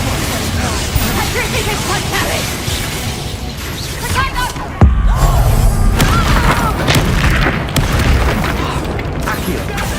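Expulso blasting spell explosion in Hogwarts Legacy combat, a sudden heavy boom midway through a busy fight with crackling magic effects before and after, loud and close, with voices speaking over it.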